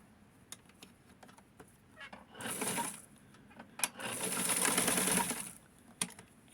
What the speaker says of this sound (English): So I'm going to go ahead and sew this part too.